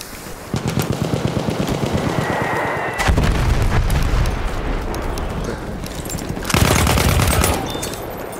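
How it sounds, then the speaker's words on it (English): Rapid machine gun bursts in the Battlefield 1 video game, a World War I shooter, in three loud sustained stretches with heavy low booms of artillery and explosions mixed in amid battle noise. "Spotted a machine gun! Spotted a scout! Enemy machine gun!"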